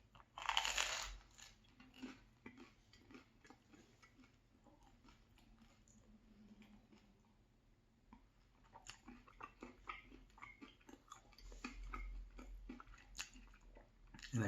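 Someone chewing a crunchy buttered baguette during a mukbang meal with tourtière meat pie, sharp close crackles and crunches in bursts with quieter mouth sounds between.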